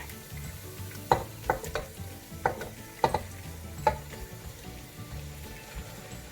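Chunks of beef tumbled and stirred into a sizzling masala in a pan: a steady frying hiss broken by several sharp scrapes and clacks of a spoon, with no voices.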